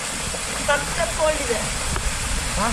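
Water roaring over huge rocks at Soormane Falls, a loud, broad, constant rush close by, with a voice speaking over it in short phrases.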